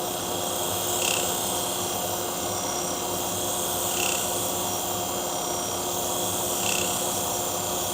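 A file works the burr off a pet grooming shear blade, a steady rasping rub under a constant hum, with a few brief sharper scrapes spaced seconds apart.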